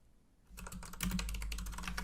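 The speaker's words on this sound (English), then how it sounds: "What else should I try typing in?" Rapid typing on a computer keyboard: a dense, continuous run of close, crisp key clicks that starts after a brief quiet moment and keeps going steadily, with no talking.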